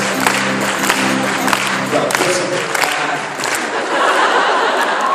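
A live show audience claps for a few seconds, steady and fairly close, with scattered laughter and chatter mixed in. The clapping then gives way to a general crowd murmur.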